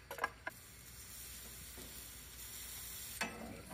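Garlic bread sizzles quietly on a hot grill with a steady, faint frying hiss, broken by a few sharp clicks and taps near the start and end.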